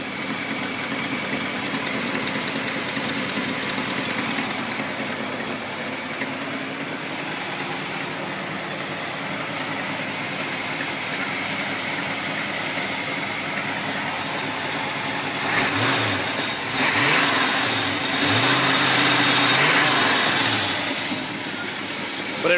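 A 1951 engine idles steadily on a cold day, then revs up several times near the end, rising and falling in short surges over a constant rumble.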